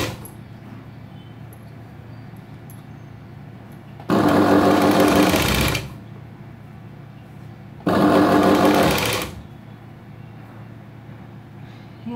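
An electric sewing machine stitches a princess-cut blouse in two loud, close bursts of steady whirring, each lasting about two seconds, separated by quiet room hum.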